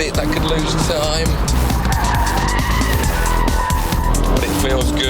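A Porsche Boxster engine roars loudly at speed on a race track with tires squealing, the engine bogging a bit briefly in third gear, while someone talks over the noise.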